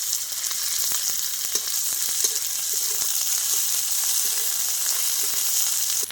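Ginger, garlic and green chili paste frying in a pan of hot oil, a loud steady sizzle with scattered crackles and faint clinks running throughout.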